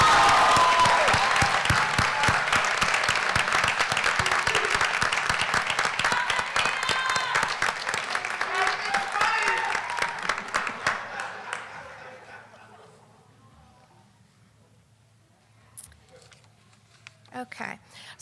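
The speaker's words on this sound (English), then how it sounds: "can we give them one more round of applause" Audience applause at an LPN nursing pinning ceremony, loud sustained clapping from a large crowd that fades out over about twelve seconds into near silence, with a few faint noises afterward.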